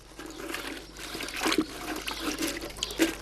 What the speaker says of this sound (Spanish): Y ahora lo vamos a mojar aquí en agua.